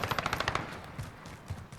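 M16 rifle firing full auto in Call of Duty Modern Warfare, a rapid burst of about eight close, sharp shots in quick even rhythm, followed by a fading echo and a couple of later thuds.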